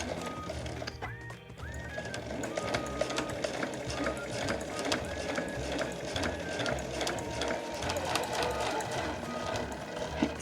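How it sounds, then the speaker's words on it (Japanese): A home sewing machine with a size 11 needle for medium-weight fabric stitches a small pouch, opening with a backstitch; its steady, rapid mechanical whir and ticking run continuously, close and fairly loud, with no talking. "上糸少し引っ張って返し縫いからスタートしましょう"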